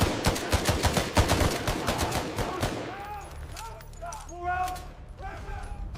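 Rapid bursts of gunfire crack in quick succession for a few seconds, then stop. Scattered clatter and a voice-like sound follow over a low hum.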